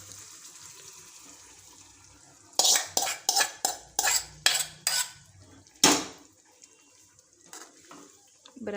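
Boiled Maggi noodles being mixed with vegetables in a pan, heard as a quick series of about eight sharp utensil clanks against the pan, then a louder knock and a few softer scrapes, with no talking.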